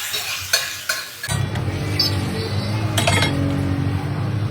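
Vegetables and manchurian sizzle loudly on a street food pan under a bridge, with a few metal clinks of the stirring spatula early on, then a steady close frying hiss with more scraping clinks.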